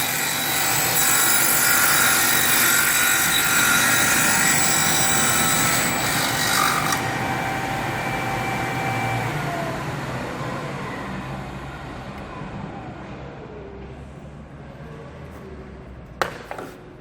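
A circular saw set to a lowered blade height rips through a piece of wood in one long, loud, close cut, its whine holding steady before winding down into a fading hum and a final knock.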